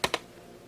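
Two quick keystrokes on a computer keyboard, crisp clicks close by and a fraction of a second apart, followed by quiet.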